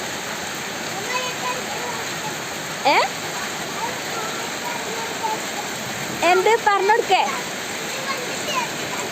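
Rain pours outdoors in a steady, unbroken hiss, with a couple of short bursts of people talking over it.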